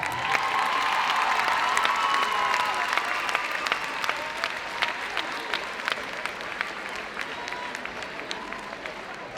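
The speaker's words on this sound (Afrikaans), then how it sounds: "Kom ek gee hulle 'n hande klap." Spectators at a 2023 inter-schools first-team netball match between DF Malan and Bellville clap steadily in a large, reverberant crowd, with a few sharper claps and faint cheers standing out over the sustained applause.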